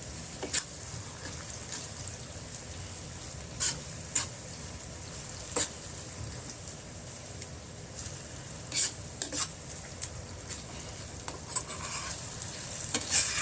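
Fresh shrimp (alamang) paste is stirred in a pan for classic bagoong, with soft sizzling and intermittent scraping clicks of a utensil against the pan, fairly quiet and with no talking.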